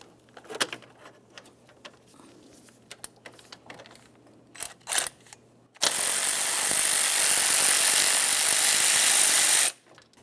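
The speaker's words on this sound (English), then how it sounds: "Use a 15mm to loosen that." A 15mm fastener on the shift selector rod of a Ford Flex transmission is loosened: scattered clicks and clanks, then a loud continuous tool burst of about four seconds that stops abruptly.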